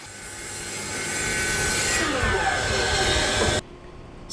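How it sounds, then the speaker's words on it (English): Table saw cutting along the sides of pallet wood pieces to straighten them, a loud, continuous whirring rasp of blade through wood, close by, ending abruptly before a brief quieter tail. "Using my table saw, I also straightened the pieces sides."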